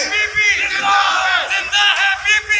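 A political rally crowd chants slogans in loud, rhythmic bursts of massed voices, rising and falling together through the whole stretch with brief dips between shouts.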